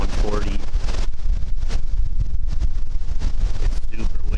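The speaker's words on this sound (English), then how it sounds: "It's super windy right now." Strong wind of about 20 miles an hour blows outdoors during a Minnesota archery hunt, a steady loud low rumble and buffeting across the microphone that runs the whole time with no clear pauses.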